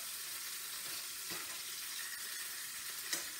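Sausage sizzling steadily in a pan, already boiled beforehand and now browning, a continuous bright crackle with occasional louder pops, no talk.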